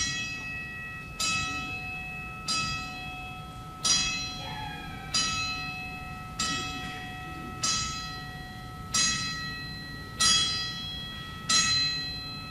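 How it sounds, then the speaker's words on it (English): A bell tolls a ten-strike salute for a departed legend, evenly spaced ringing strikes about every second and a quarter, each decaying into a lingering metallic hum over a quiet room. "say goodbye to a legend with a 10-bell salute."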